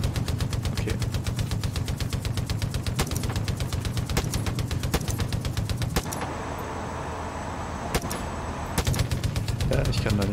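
Rapid, continuous machine-gun fire from guns mounted on a vehicle rattles nonstop over a rumbling engine, with a brief lull before bursts resume; game-like and loud, in Far Cry 5.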